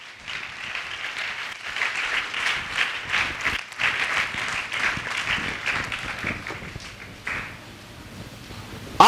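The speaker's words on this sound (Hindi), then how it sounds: "आप ताली बजा सकते हैं" A church congregation applauds together for several seconds, a dense, steady wash of clapping at moderate distance that thins out and fades near the end.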